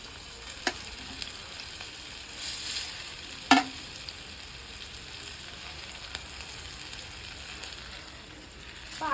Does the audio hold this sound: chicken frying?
yes